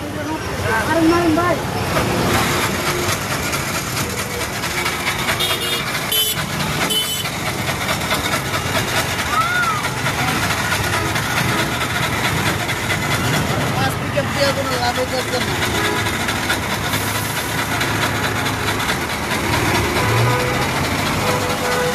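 Heavy traffic jam on a flyover at Jatrabari, with a dense, continuous rumble of idling engines and vehicle noise throughout. Voices occasionally sound over it.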